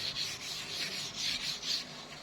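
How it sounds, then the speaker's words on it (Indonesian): 240-grit sandpaper rubs by hand over peeling car paint at panel joints, with steady rhythmic back-and-forth strokes close up, a soft hiss swelling with each pass and no talking. "Ini kita amplas semua ya, di bagian sambungan-sambungan dengan yang cat lamanya nggak dikelupas ini"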